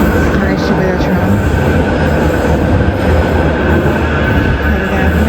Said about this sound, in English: and it should be the tram